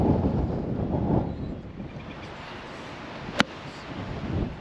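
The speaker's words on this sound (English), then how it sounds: "Very windy still." Wind gusts across a golf course at Fernley Golf Club, a broad low rumble of microphone buffeting that swells and eases, with one brief sharp tick midway and no talking.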